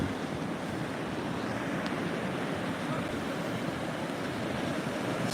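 Surf and tidal water surging ashore at Bethany Beach under coastal flooding from Hurricane Erin, a steady broadband roar of waves with constant wind buffeting the microphone throughout.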